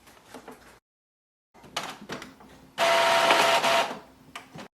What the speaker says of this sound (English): whenever you hear the sound that print head is moving